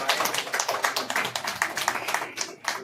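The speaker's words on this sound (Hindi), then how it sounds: "ताली आप लोग नहीं बजा" An audience at a public event in Varanasi claps in a quick, steady rhythm of dense hand claps that carries on for a few seconds at moderate loudness.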